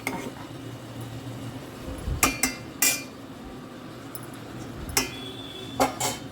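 A lid put onto a pot of vegetables cooking in a home kitchen, several sharp metallic clanks and rattles spaced over a few seconds, with a low sizzle underneath and no talking.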